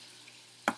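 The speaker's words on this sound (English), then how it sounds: "now it picks up the crackling." Homemade potstickers fry in a pan as the water boils off, a soft steady sizzle under a quiet background, broken near the end by one sharp, loud crackle or pop.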